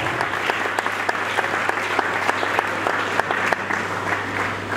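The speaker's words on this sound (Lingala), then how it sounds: "je vous prie d'applaudir très fort, s'il vous plaît" A crowd at a comedy artists' reconciliation gathering applauds loudly and steadily, a thick bed of clapping with crisp individual hand claps popping out at irregular intervals all the way through.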